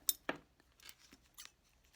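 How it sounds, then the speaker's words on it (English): Scissors snip the end off a zipper during sewing, a few quick, close, crisp cuts spaced through a quiet moment. "take my scissors and cut the end"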